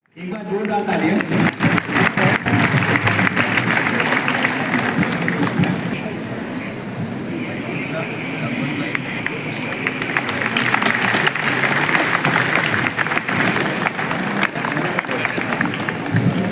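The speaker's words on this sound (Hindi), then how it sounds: "एक बार जोरदार तालियां।" Loud sustained applause from a large audience at an Uttarakhand cultural event, continuous clapping with crowd babble mixed in, holding steady for the whole stretch.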